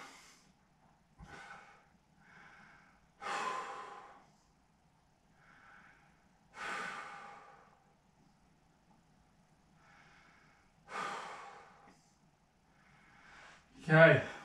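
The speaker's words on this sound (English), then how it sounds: "let's just get that breathing back down." Heavy, audible breathing of people lying on their backs recovering after a full-body rucksack workout, slow breaths and exhalations recurring every few seconds in a quiet room, with one louder gasp near the end.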